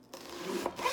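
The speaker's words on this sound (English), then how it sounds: "you're gonna take your knife and you're gonna stab it through and cut down" A knife stabs into a whole onion and slices downward, making a short, close, dry rasping cut lasting about a second, with no one talking.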